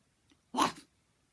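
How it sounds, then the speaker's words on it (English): A small dog gives one short, close bark or sneeze-like huff, standing alone against near silence. "a little dog was trotting by"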